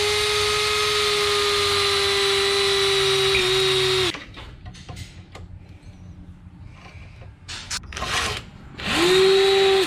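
Power tool whining steadily at a high pitch while removing a bolt from a CRF motorcycle, then stopping for clinks and handling noises, with a shorter second burst of whirring near the end.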